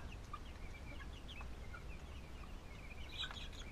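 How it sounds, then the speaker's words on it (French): A flock of chickens with a rooster clucks and chirps softly in short scattered calls, heard faintly at a distance over low background noise. "Ici j'ai un joli coq là."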